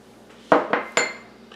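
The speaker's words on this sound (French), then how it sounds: "Et je vais enfourner." Egg-washed white bread going into a hot oven, heard as three quick metallic clanks of a tray and oven rack in close succession, fairly close and loud, with a faint clink after.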